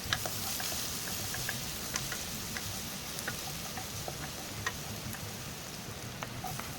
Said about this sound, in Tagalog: So ang una ay gisa muna natin ang bawang.